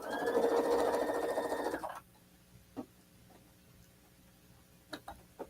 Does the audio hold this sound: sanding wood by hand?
no